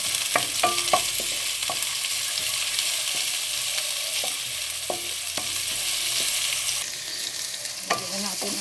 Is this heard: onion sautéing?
yes